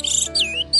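An orange-headed thrush kept as a home pet gives three short, bright chirps in quick succession, close and clear against a quiet background.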